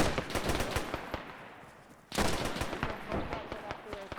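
Sustained automatic and rifle gunfire in the military video game Arma during a Sicily campaign training session, rapid overlapping shots near and far with a brief lull midway, under talk from players.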